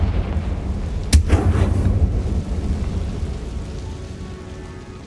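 A Confringo spell explosion in the Hogwarts Legacy video game, one sharp loud blast followed by a booming rumble that slowly fades over several seconds, heard alone without talking.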